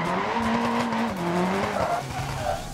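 A car drifting at a wide angle in the BeamNG driving game, tires squealing loudly and continuously over a revving engine whose pitch rises and falls as the slide continues.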